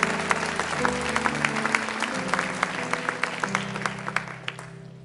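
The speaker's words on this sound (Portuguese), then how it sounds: "Você tem que aplaudir o Senhor junto com esse irmão que começou aí." A worship congregation claps along steadily during a church service, the rhythmic claps sounding over sustained music with low sung or held tones throughout.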